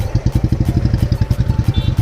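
A motorcycle engine on a hill trail road near Gurgaon on a busy Sunday, chugging with a steady, rapid low thump close by and loud, some faint higher clatter above it, no voices.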